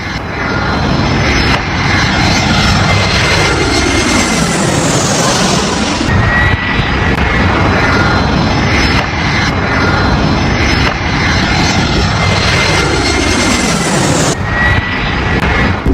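A fixed-wing airplane's engine roars steadily overhead in flight, a loud continuous drone with rising and falling whooshing sweeps as it passes, no voices.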